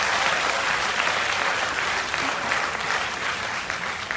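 A large audience breaks into dense, loud applause that holds steady throughout, with no voices rising above the clapping.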